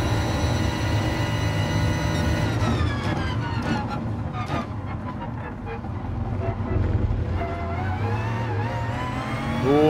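Race car engine in an FIA Manufacturer series racing video game, a loud sustained engine tone with strong harmonics that dips and climbs as throttle is applied, continuous throughout with a voice talking over it.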